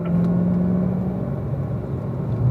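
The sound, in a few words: Chevrolet Camaro accelerating out of a track corner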